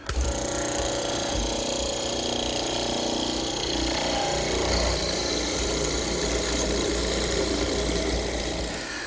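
A router bit plunges into a table leg to cut a mortise for a monastery table, giving a loud, steady, continuous machine whine and roar that runs throughout without a break.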